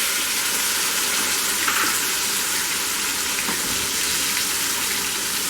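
Steady broadband sizzle of potatoes frying in oil as a blended paste of tomato, chili and ginger goes in for a Bengali pomfret fish curry, a constant wet hiss with no talk over it.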